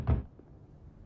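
A single dull thunk of a knock on a door, close and brief, followed by quiet room tone with no further knocks.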